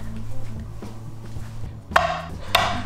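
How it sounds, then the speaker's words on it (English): Knife chopping food on a cutting board while making corn chowder: two sharp, close chops near the end over a low background hum. "Let's get back to chopping."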